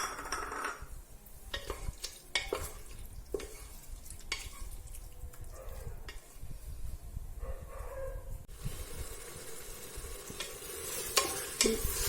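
Ginger-garlic paste fries with softened tomatoes in a pan as a chicken biryani base is cooked, with a steady low sizzle and frequent scraping, clinking stirs from a spatula, heard close, with no voices.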